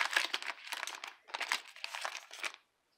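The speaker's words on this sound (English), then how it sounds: "Go ahead and rip this Heritage next." A Topps Heritage baseball card pack is torn and crinkled open in a run of loud, close foil rips and crackles lasting nearly three seconds, then falling silent.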